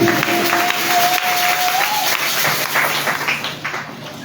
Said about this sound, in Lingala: Acclamez le Seigneur Jésus